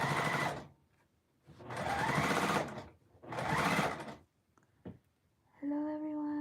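A household sewing machine running in three sustained bursts of steady whirring stitching with short pauses between, close and clear, followed by a brief click and a tonal hum at the end.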